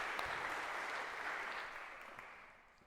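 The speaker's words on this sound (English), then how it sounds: "Big round of applause," A lecture hall audience at a computer science class claps for a volunteer coming up on stage, a soft, fairly distant wash of applause that gradually fades toward the end.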